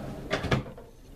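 A drawer on a shop tool chest slides open in two quick rolling bursts, fairly close and otherwise quiet.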